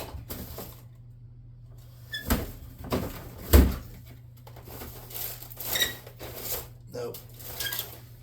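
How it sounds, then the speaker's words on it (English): Rummaging through a drawer at home in search of a tea light, with several soft knocks, clatters and shuffling bursts of small objects over a low steady hum, close and fairly quiet. "Let me see what's in the drawer."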